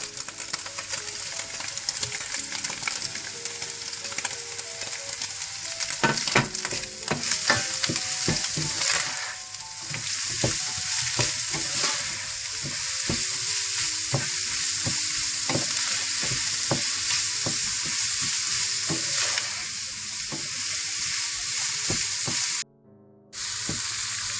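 Carrots, green onions and capsicum stir-fried in a hot pan for Chinese rice, a loud continuous sizzle with frequent scraping and clattering of a spatula close up, briefly cutting out near the end, no voices.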